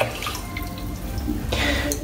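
A shaving brush is lifted out of a soaking bowl of water, giving sloshing and dripping splashes that swell near the end, close and fairly loud.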